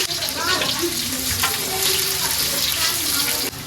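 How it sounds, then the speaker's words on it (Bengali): Chopped onion dropped into hot oil for a meat roast, a loud dense sizzle and crackle filling the clip close up, steady throughout with no talk. "তেল দিয়ে দিলাম, পেঁয়াজ কুচি দিয়ে দিলাম"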